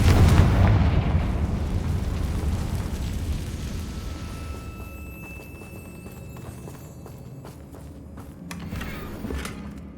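A Confringo fire spell explodes in Hogwarts Legacy, a loud booming blast with rumbling low-end roar that slowly fades over several seconds, followed by lingering crackle and a second swell near the end.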